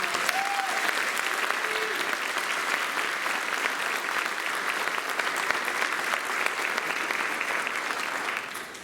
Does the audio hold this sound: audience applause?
yes